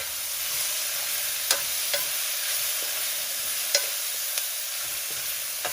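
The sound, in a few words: frying drumstick leaves with toor dal in pan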